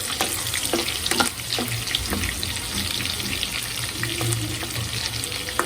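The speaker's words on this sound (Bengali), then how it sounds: "মাংসটা হালকা করে ভেজে নিচ্ছি" Meat with sausage and capsicum frying lightly in a pan, a steady close sizzle with scattered crackles and faint stirring scrapes, no voices over it.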